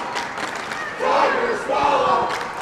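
Crowd buzz inside an ice hockey arena at a high school boys' playoff game, a steady murmur of many distant voices that swells into louder shouting and cheering in two waves.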